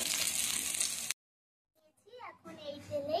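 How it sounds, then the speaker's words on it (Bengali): Katla fish pieces fry in hot oil with a steady close hiss for about a second, then the sound cuts to near silence before a voice comes in. "এইভাবে আমি সব মাছগুলোকে ভেজে নেব।"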